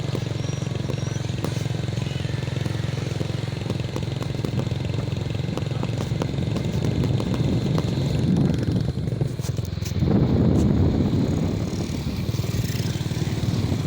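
Motorcycles pass along a diversion road in the Philippines, their mid-pitched engines droning steadily and swelling louder near the end, with a low background rumble of traffic.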